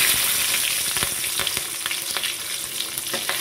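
Two slit green chillies dropped into hot fish-frying oil tempered with dried red chilli and nigella seeds: a loud, close, continuous sizzle and crackle with a few light stirring clinks, no voices.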